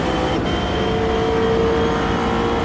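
A McLaren race car's engine in Project Motor Racing holds a loud, steady, close drone with a sustained whine, with no voices over it.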